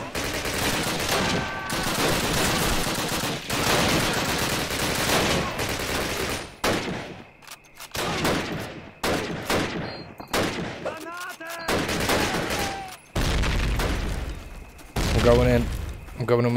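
Gunfire in the World War II shooter game Call of Duty: United Offensive, with bursts of rifle and machine-gun shots and rattling volleys in irregular clusters, loud and close, while players talk between the shots.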